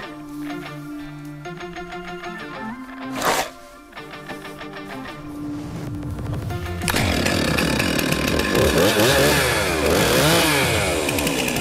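A chainsaw cutting a log for a fire, starting with sputtering idle and revving bursts, then settling into a loud, continuous, rasping whine as the chain bites steadily through the wood.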